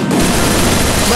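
Dense, continuous gunfire from the Free Fire battle-royale mobile game, a steady loud fusillade of rapid shots filling the whole moment with no gaps.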